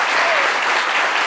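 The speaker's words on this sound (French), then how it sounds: "On peut applaudir," A live audience applauds at a cultural event celebrating roots and customs, a dense, steady wash of clapping from many hands, fairly loud and close, with no talk over it.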